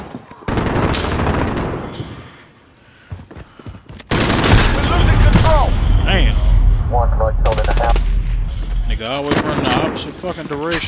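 Sustained gunfire with heavy booming reports rolls on after a brief lull, loud and continuous with deep low rumble, while voices talk over the shooting.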